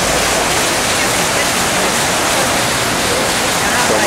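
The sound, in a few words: water flowing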